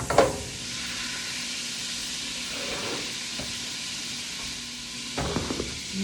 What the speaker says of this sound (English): now the butter is melted and sizzling